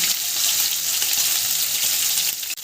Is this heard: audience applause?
no